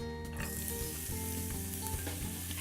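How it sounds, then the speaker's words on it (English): Grated carrot sautés in olive oil in a pan over medium-high heat, giving a steady, even sizzle with a few faint clicks of the pan underneath. "in the oil I'm going to saute some vegetables"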